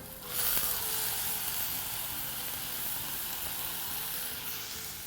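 Tomatoes tipped into a pan of sweated onions for a carrot coconut stew, setting off a bright, steady sizzle that jumps up in the first half second and then holds as an even frying hiss, with no one speaking.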